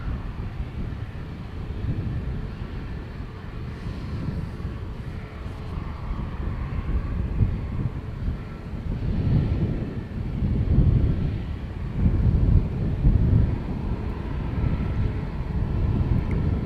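A jet airliner at Dublin Airport rumbles in the distance, a low, broad roar that swells and ebbs over several seconds, mixed with gusting wind buffeting the microphone.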